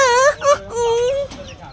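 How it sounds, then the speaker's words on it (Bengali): Chicks call close by in a few drawn-out, high-pitched cheeps, one after another, with a faint voice underneath. "কি এরা দুজন মুরগির বাচ্চা?"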